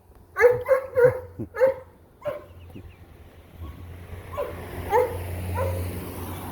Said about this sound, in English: Every time we pass by here, the dogs go like that.